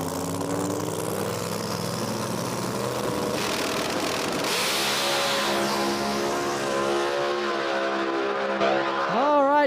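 Drag race cars, one a twin-turbo Conquest, roar down the strip at a no-prep event in Brainerd, Minnesota, loud engines rising in pitch and then fading away, with a crowd and commentary underneath.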